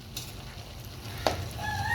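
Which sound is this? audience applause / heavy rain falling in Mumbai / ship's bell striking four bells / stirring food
stirring food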